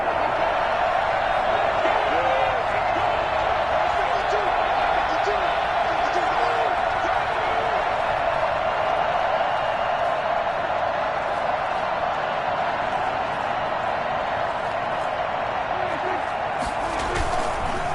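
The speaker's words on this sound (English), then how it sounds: "the crowd getting into it as we come up on a big 3rd down" Stadium crowd at an Eagles vs Cowboys NFL football game, a steady roar of cheering and noise building ahead of a big third down, continuous and loud throughout, with a commentator talking over it.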